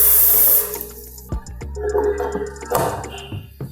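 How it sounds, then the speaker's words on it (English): Water poured into a blender jar over dried hibiscus flowers, chili pepper, red peppercorn, grains of Selim and cloves for a Sobolo drink, a splashing, running flow in a kitchen with a few knocks and clinks, no talking. "So I'll add water"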